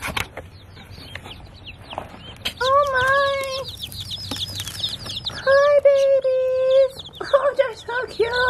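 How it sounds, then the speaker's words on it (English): High, thin peeping calls from baby chicks come in repeated bursts, some sustained and wavering, with soft rustling and low background noise between them. "to think we have baby birds coming in through the mail"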